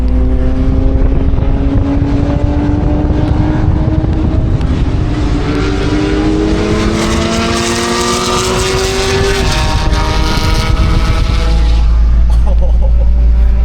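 Several cars at the Corkscrew Hillclimb at Laguna Seca Raceway roar past nearby, their engines rising in pitch as they accelerate, while a person talks over the noise.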